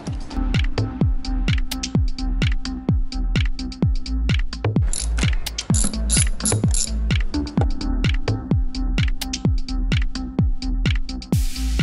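A ratchet wrench fitted with a 12 mm socket clicks steadily while loosening bolts on a car during a reverse light bulb replacement, with evenly spaced close, loud ratcheting pulls and a brief metallic rattle midway.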